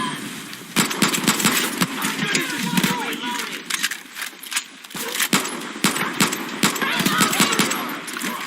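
Gunfire from the shooter video game Far Cry New Dawn comes as loud, sharp cracks in rapid irregular bursts over several seconds, mixed with game noise. A character's voice talks over the shots.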